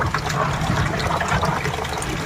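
Steady, close splashing and running water as sea snails are washed indoors in a kitchen. A continuous gush with no pauses and no talking.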